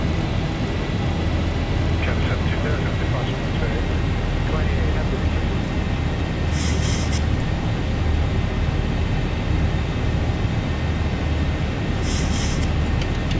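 Boeing 737-800 jet engines in the X-Plane 12 flight simulator give a steady, loud cockpit roar with no clear rise in pitch, and two brief high chime-like bursts come through.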